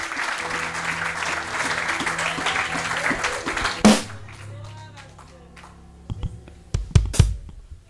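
A church congregation applauds Jesus during a worship service in Béthune, loud sustained clapping from many hands that fades out midway, followed by scattered claps and taps.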